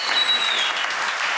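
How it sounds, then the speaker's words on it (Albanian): A studio audience at a television comedy show greets a guest with applause. The clapping is brisk and sustained, and a faint high whistle rings through it briefly near the start. "por ka nevojë për një duartrokitje të zjarrt"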